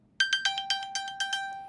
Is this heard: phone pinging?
yes